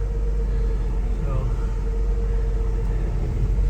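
A 1970 Ford F100 pickup engine idling and pulling away, a steady heavy low rumble with a constant drone, close and loud throughout.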